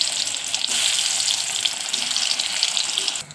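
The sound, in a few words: ash gourd pieces frying in hot oil in a kadai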